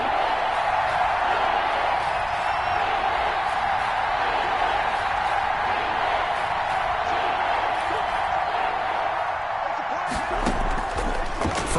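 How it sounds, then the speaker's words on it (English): A steady roar of a stadium crowd rises during a big third-down play in an American football video game, continuous and loud, with a commentator's voice over it. "The crowd getting into it as we come up on a big 3rd down"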